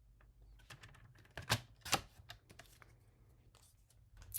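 A paper trimmer cuts cardstock in quiet, close snips and slides, with two sharp louder cutting strokes in the middle and lighter clicks around them.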